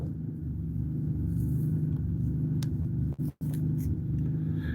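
A vehicle engine idling and surging from water in the fuel after freezing up overnight, a steady low rumble with slight swells in level and a brief cutout near the end.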